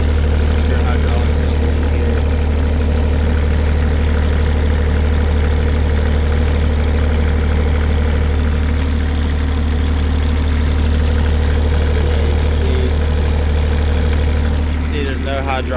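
A CAT 302 mini excavator's engine idles while warming up, a loud, constant low drone with a steady mechanical rattle, close by and unbroken for the whole stretch, with a voice faintly audible near the end.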